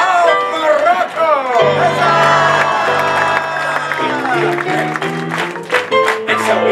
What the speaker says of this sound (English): Pause, ladies and gentlemen, for a round of applause for Princess Belle!